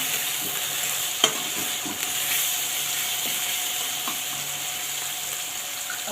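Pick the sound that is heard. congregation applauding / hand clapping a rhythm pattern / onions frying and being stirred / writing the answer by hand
onions frying and being stirred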